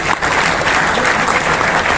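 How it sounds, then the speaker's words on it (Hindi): A crowd at a business gathering bursts into loud, dense applause, a continuous roar of many hands clapping for an honored guru. "एक बार जोरदार तालियां होने से गुरुदेव की"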